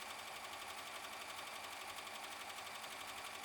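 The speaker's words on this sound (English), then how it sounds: "bring your hoop to your machine and begin to stitch out the design" An embroidery machine stitches out a stained glass ornament design in the hoop, a fast, steady mechanical chatter with an even needle rhythm, faint and continuous with no talk over it.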